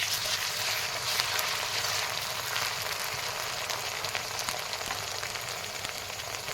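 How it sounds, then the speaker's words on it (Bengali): Ginger and garlic paste fries with onions in a pan, giving off a steady, even sizzle that holds at a constant moderate level throughout with no voices. "আদা রসুনটা ভালো করে ভেজে নিই, যেন কাঁচা আদা রসুনের পেস্টটা গন্ধ না করে।"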